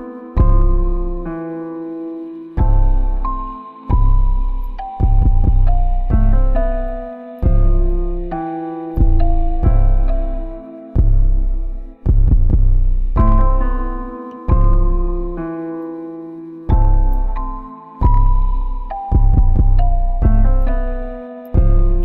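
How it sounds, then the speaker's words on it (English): Kick drum and 808 bass mixed together with sidechain compression, short punchy hits followed by swelling, ducking bass tones in a repeating pattern, loud and alone with no talk. "I feel like it gives the kick enough room that there's still a nice hit with the 808"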